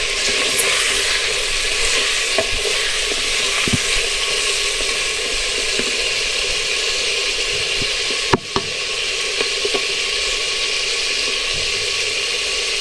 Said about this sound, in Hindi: उसी तरह हम इसी ऑयल में हम अपना गोश्त शामिल कर देंगे।